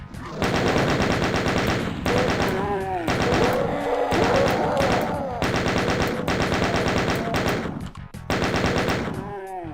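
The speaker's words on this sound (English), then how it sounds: "The chain gun is not the most accurate, but I tend to enjoy using it from long distances." Rapid chain gun fire in The Ultimate Doom, loud and close, in several sustained bursts broken by brief pauses, with harsher explosive blasts in the middle.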